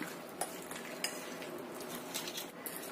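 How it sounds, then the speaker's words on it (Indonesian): Spoon stirring an Indomie noodle and potato snack batter with an egg in a bowl, a soft continuous scraping and mixing with a few light clinks, close and fairly quiet. "Kita aduk lagi sampai tercampur rata."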